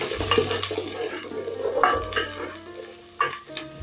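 Onions sauté in a pan for a potato and pumpkin curry, with a close, moderately loud sizzle and a few stirring scrapes and clatters, including a sharper clink near the end.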